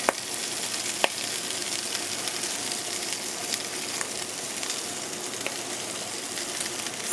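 Carrots go into a pan of frying salted pigtails, and a steady loud sizzle and crackle fills the air, with a few sharp pops and the scrape of stirring.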